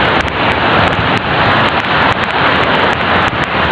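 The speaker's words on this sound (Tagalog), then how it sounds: "Maingay lang yung hampas ng alon." Sea waves hit a rocky islet shore, a loud broadband roar with wind buffeting the microphone in sharp gusts, continuous and close, with no talking.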